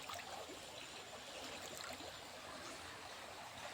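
The Kakkathodu stream at Payyavoor, Kerala, rushing and gurgling continuously with small waves, a steady close wash of flowing sound with no pauses.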